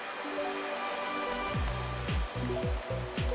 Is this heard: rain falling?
yes